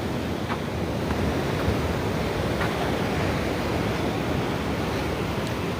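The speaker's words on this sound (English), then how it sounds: "we are viewing the tide coming in" Incoming tide waves wash steadily onto La Jolla beach near the Children's Pool, a continuous, fairly loud roar of surf mixed with wind buffeting the microphone, with no voices.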